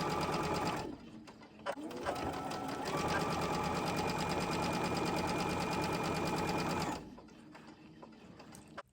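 A sewing machine stitching quilt pieces runs in a steady, close whirring hum for about six seconds, starting and stopping abruptly, with brief motor bursts at the start and no talk.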